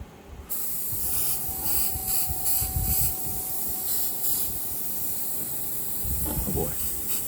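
Short test sprays from a paint sprayer used on a miniature, given as a series of hissing bursts over a steady airy background.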